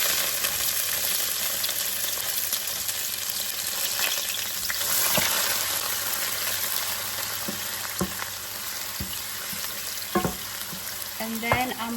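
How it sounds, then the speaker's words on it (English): Celery hitting hot oil in a pan while making Kenyan mukimo, a steady loud sizzle and hiss throughout with a few sharper clatters of stirring near the end. "We already have our oil heated up. It's pretty hot. So what I'm going to do is add the celery."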